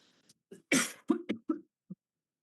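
A single person gives a short burst of harsh coughs, one loud hack followed by three or four smaller throat-clearing coughs, close and otherwise quiet.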